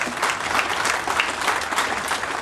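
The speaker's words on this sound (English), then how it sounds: "I'll take an applause on that." Audience members at a Delta Regional Authority press conference applaud, a steady burst of close, even clapping that continues without pause for a couple of seconds.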